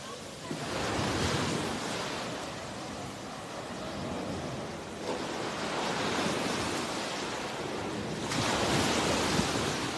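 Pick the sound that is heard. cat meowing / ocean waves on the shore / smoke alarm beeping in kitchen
ocean waves on the shore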